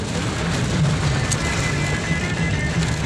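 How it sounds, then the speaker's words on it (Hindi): Rain beginning to fall outdoors at a house, a steady broadband patter and hiss holding at an even level throughout with no voices. "बारिश शुरू हो गई है"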